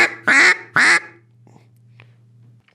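A duck call blown with very light air pressure gives two loud, close quacks in quick succession, followed by a low steady hum and a couple of faint clicks.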